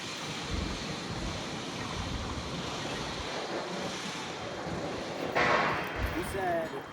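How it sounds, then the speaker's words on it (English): Strong wind blows outdoors at a Tucson camp, roaring steadily into the microphone with gusty surges. People talk under the buffeting throughout. "it's so windy out here"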